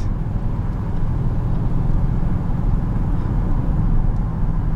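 An Audi RS6 on an everyday drive gives a steady low engine and exhaust drone with road rumble, heard from inside the car at an even, moderate level without talk.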